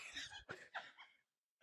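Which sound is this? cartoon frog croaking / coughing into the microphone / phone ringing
coughing into the microphone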